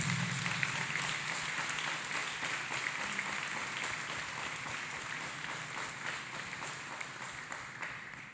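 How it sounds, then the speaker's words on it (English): A church congregation claps hands for Jesus during a sermon, a sustained, fairly distant patter of many hands rolling on evenly for several seconds. "Let us clap hands for Jesus."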